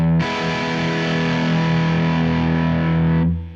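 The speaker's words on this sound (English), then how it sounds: "let's see how this Mini Fuzz V2 capture sounds." Electric guitar played through a Mini Fuzz V2 capture on a digital rig, a single thick, buzzy fuzz chord ringing out loud and sustained for about three seconds before cutting off.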